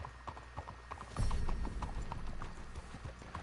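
A horse's hooves clip-clop at an easy, regular walking pace in Red Dead Redemption 2, the hoofbeats near and distinct over low ambient rumble, with no talk.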